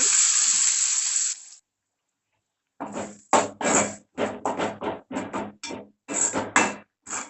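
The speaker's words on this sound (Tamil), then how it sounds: "கொஞ்சமாக கருவேப்பிலை இதெல்லாம் போட்டு லைட்டாக வதக்கிடுவோம்" Curry leaves hit hot oil in a loud burst of sizzling, then a pause, then a series of short spattering crackles in quick irregular bursts, close by.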